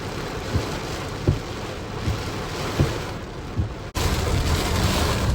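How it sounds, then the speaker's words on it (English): Heavy rain and gusting wind during a tornado-warning storm, a steady broadband roar of downpour and wind buffeting the microphone, with periodic low thumps of gusts; no voices. "you can just see and hear the wind like pick up, throws more rain."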